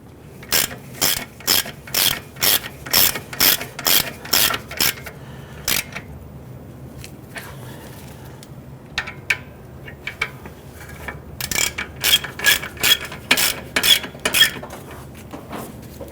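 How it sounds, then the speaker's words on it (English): A ratchet and socket snugging down caliper bracket bolts on a 1999-2004 Jeep Grand Cherokee during rear wheel bearing work, with two runs of quick, close clicking strokes separated by a quieter pause and no talk. "we're going to go ahead and put our ratchet and socket on there and snug those down"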